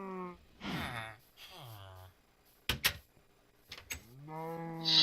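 Cows in Minecraft give a couple of drawn-out, wavering moos, separated by a brief clatter of sharp clicks, all fairly close and clear.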